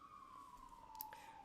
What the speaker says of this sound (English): Sorry about the siren. I'm just gonna talk over it.